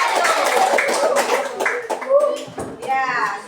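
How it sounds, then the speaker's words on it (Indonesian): A class of primary-school pupils claps for a group of classmates, quick uneven clapping mixed with children's chatter and an adult voice talking over it. "Sekali lagi tepuk tangan untuk kelompok"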